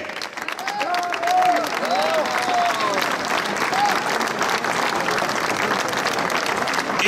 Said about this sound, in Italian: E con questo applauso il Veloclub Oggiono e la città di Oggiono ricordano Giorgio Frigerio